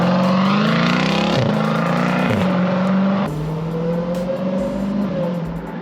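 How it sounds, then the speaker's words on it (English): A Jeep Trackhawk accelerates with its supercharger whining loudly over the engine drone, the pitch rising through gears with a couple of shift dips, heard from inside the vehicle at close range with no talking. "Just like barely stepping on it, the supercharger whines like crazy."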